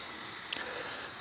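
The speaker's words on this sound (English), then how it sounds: "spray the rack down so it doesn't stick" A steady hiss of cooking spray coating a rack for ground beef jerky, spraying continuously, close by, with no pauses and no other sounds.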